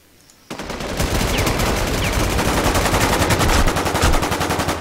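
Gunfire in the video game War Inc, starting abruptly after a brief quiet moment and continuing as rapid, loud automatic bursts that keep going to the end.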